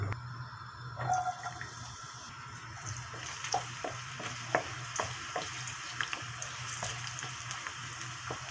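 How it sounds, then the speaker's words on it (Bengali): Greens tempered in hot mustard oil with chopped garlic and dried chillies, in a bottle gourd leaf dish: a quiet, steady sizzle with scattered crackles and occasional stirring clinks throughout. "আর শাকের সাথে আমি এখন শাকগুলো সরিষার তেল দিয়ে বাগার দিয়ে নেব।"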